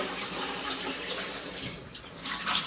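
Warm water sloshes and swirls inside a stainless steel mixer bowl, a steady, close, continuous watery wash with brief surges, heard alone.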